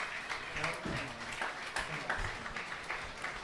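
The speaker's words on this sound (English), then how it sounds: "A standing ovation from the crowd, from the John Carroll faithful" A crowd gives a standing ovation at a high school playoff baseball game, steady distant clapping and cheering from the stands, a moderate wash of applause under an announcer's voice.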